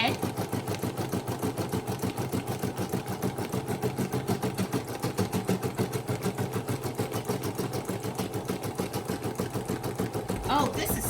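A Brother SE1900 embroidery machine stitches metallic thread with a fast, even mechanical chatter and whir, steady and close throughout, ending with a brief shift near the finish.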